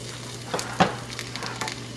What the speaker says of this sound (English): So once you've done that, you can already hear the sizzle.